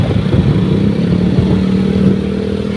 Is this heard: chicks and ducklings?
no